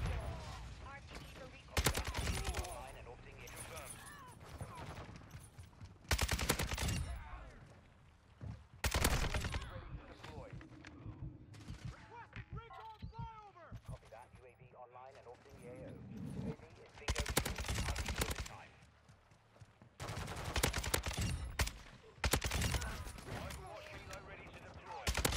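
A Kastov 762 rifle in Call of Duty fires in several loud, punchy automatic bursts spaced across the stretch, with quieter gaps between them where someone talks.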